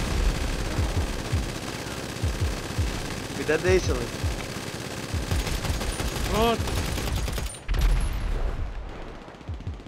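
Sustained machine gun fire in the video game GTA V, dense rapid bursts rattling continuously in the background while someone speaks over it a couple of times.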